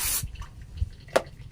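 Petrol drips off cleaned, rusty fuel-injection parts of a Honda Beat FI scooter as they drain, with a splashy gush at the start followed by a few scattered close drips and patters.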